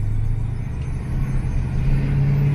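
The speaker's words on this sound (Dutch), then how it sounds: "Rijdt op benzine deze auto." A 1980 Chevrolet Camaro petrol engine running, a loud, steady low rumble with a slight rise in the last second, close by and with no voices.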